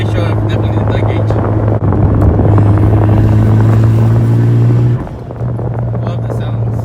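Turbocharged DSM car engine running under boost, a loud steady drone with a strong low hum holding level before dipping briefly near the end, then settling back to a lower idle tone.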